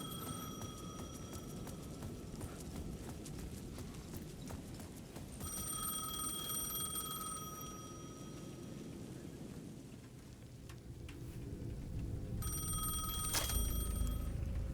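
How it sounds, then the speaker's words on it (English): Payphone at the edge of a plaza in Alan Wake 2 rings in repeated bursts of bright electronic tone over a low ambient bed, with clattering, clip-clop-like noises in between. "The payphone at the edge of the plaza was ringing again."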